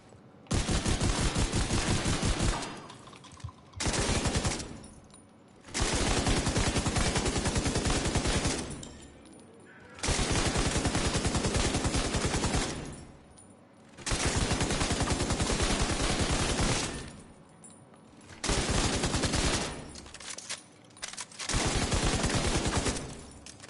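Gunfire from a gun in The Division 2, long loud bursts of rapid automatic fire repeated several times, separated by short pauses, with no talking.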